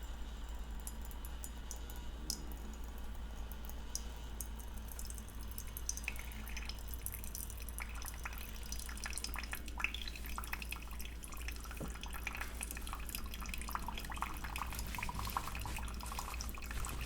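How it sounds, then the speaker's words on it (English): A Keurig coffee machine brewing a chai latte, with a steady dripping, trickling stream of liquid and a low constant hum from the machine, close by and without any talking. "You press the Keurig button, and it's going to go ahead and give you a small shot of whatever flavor you put in"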